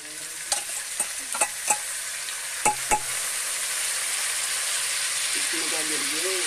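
Ginger garlic paste fries for chicken karahi in a strong, steady sizzle, with a few sharp clanks of a spoon stirring early and a faint voice briefly near the end.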